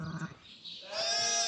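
A pregnant sheep on a farm gives one short bleat and then a longer, louder one, close and distinct.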